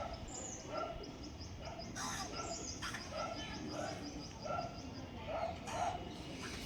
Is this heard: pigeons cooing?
yes